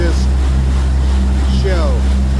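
A river taxi on the Elizabeth River churns the water with its propeller, giving a steady low rumble of engine and water under wind, with a voice talking over it.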